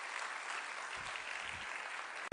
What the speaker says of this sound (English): can we give another round of applause for Alejandro?